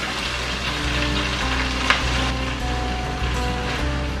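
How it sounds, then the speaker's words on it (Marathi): Fenugreek leaves sauté in oil with chilli and garlic over a low flame, giving a steady, even sizzle throughout, with a single brief click near the middle and a faint tonal hum underneath. "मेथी अशी तेलावर आपण चांगली परतून घेणार आहोत"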